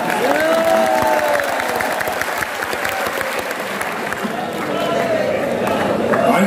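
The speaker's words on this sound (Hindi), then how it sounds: "ये इक्का दुक्का तालियों से क्या होगा?" Applause from an audience at a mushaira poetry gathering in Saharanpur fills the space, steady clapping with cheers and voices mixed in, swelling slightly toward the end.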